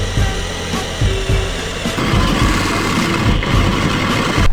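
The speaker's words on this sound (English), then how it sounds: "so all I have to do is drill through holes on this piece" A power drill bores holes through a threaded bracket piece, its motor whining steadily and loudly with slight shifts in pitch as it cuts, no talking.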